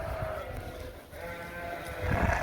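Recently shorn sheep bleat inside a barn, several overlapping calls rising over a steady low indoor hum, fairly close and moderately loud, louder again near the end.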